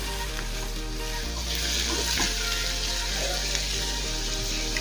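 Chopped coriander leaves and onions are stirred in a pan with the gas switched off, giving a soft continuous sizzle with scraping strokes throughout, fairly quiet and with no voice.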